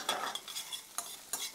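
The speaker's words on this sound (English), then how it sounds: "Lightly saute this" Green onions and garlic sauté lightly in olive oil, heard as a quiet, brief run of soft stirring scrapes over a low sizzle, with a few distinct spatula strokes.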